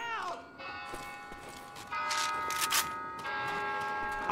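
A church bell tolls in Left 4 Dead 2, ringing out with long ringing tones among game noise and clatter, at a moderate level.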